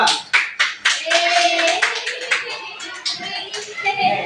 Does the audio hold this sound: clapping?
yes